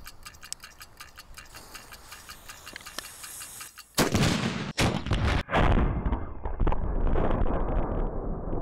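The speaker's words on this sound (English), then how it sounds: "Get shot out of a cannon?" A human cannon fires a person out with a sudden loud blast after steady ticking, followed by roaring bursts and noisy crowd-like commotion.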